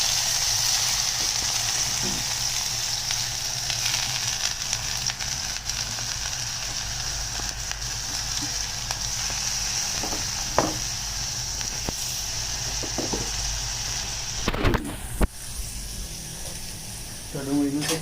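Onions with cumin sizzling in hot oil for a green onion curry, a continuous close hiss with occasional stirring scrapes and knocks, and a voice talking over it now and then.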